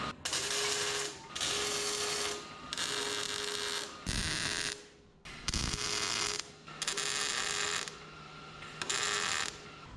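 Several bursts of buzzing MIG-style tack welding on a suspension part of a 1967 Toyota Stout, each about a second long and separated by short pauses, close and fairly loud with no talking.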